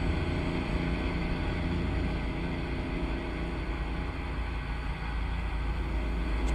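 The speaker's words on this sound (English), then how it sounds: "Love the sound of the engine that's in there, the Cummins Chip 605." Cummins truck engine in American Truck Simulator drones at a steady low rumble, a continuous deep hum with no break or change in rhythm, heard from inside the cab.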